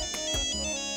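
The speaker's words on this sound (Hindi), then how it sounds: "मिसेस मालती का फोन है" A phone ringtone plays loudly and steadily for about a second, a bright repeating electronic tone with no voices over it.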